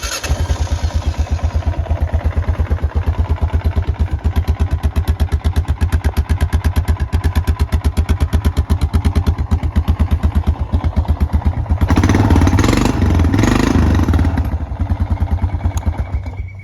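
A 2000 Honda Foreman 450S ATV engine runs after a top-end rebuild with new piston rings, a steady, close, rhythmic idle with a brief rise in revs near the end.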